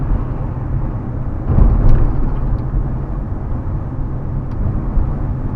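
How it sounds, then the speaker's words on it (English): A car drives along with a steady broadband road and engine rumble recorded from inside through a TOGUARD CE66 dash cam, a brief swell in the middle, and no talking. "So right now I'm just driving around so I can catch some footage of for the review video."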